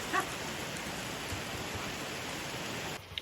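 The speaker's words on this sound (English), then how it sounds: "we thought we'd take a little break while the rain passes through" Steady rain pours down continuously around a cabin under construction at a homestead camp, a dense even wash that cuts off abruptly near the end.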